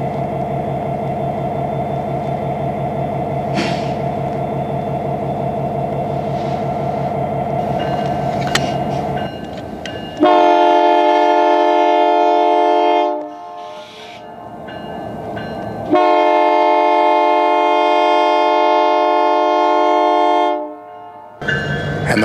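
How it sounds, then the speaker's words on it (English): A CP Rail Holiday Train rumbles steadily as it pulls out of Portage la Prairie, then a loud multi-tone horn blasts twice in long sustained calls, with a brief pause between them. "Holiday train from CP Rail is pulling out again from Portage la Prairie"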